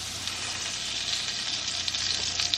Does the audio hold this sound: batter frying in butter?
yes